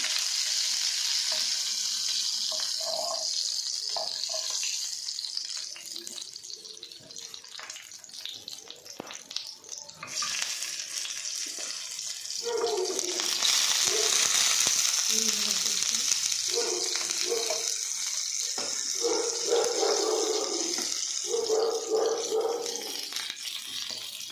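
Stuffed pointed gourds (parwal) fry in a little oil over low heat, a soft steady sizzle with occasional stirring scrapes and small clinks in a quiet kitchen.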